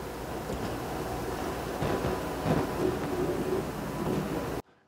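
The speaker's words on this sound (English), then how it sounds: "Now observe the effect when I place the wheel set with the cone-shaped wheels on the train tracks." A wheel set with cone-shaped wheels rolls along train tracks in a classroom-style demonstration, a steady rumbling roll lasting several seconds before it cuts off abruptly into silence.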